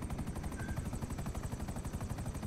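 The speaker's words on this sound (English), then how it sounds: "Oh my god, I'm in a fucking helicopter." Helicopter in GTA V heard as a steady rapid rotor chop, fast regular thumping throughout at moderate level with a constant engine whine, no talking.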